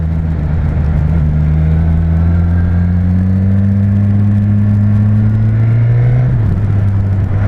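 Suzuki Katana four-cylinder motorcycle engine on its stock exhaust, revving loud and close with a deep, steady droning roar whose pitch climbs gradually, then drops slightly near the end.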